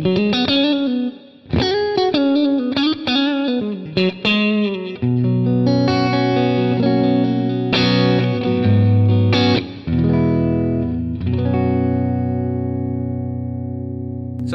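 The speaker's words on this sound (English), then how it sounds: "let's just go for hall reverb" Electric guitar played through a Neural DSP Quad Cortex with hall reverb, loud and close: a few picked notes and chords ring out into long, smooth washing tails that fade slowly, with no voices.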